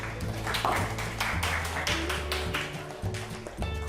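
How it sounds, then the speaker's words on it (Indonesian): Students in a computer and informatics classroom clap for classmates after a group presentation, quick light hand claps at moderate distance with music-like tones underneath. "Oke, tepuk tangan dulu buat temannya"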